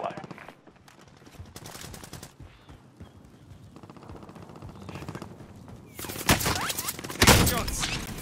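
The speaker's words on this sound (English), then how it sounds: "Shots." Gunshots in Call of Duty: Modern Warfare, a few loud sharp reports near the end after quieter in-game ambience and a voice over the radio.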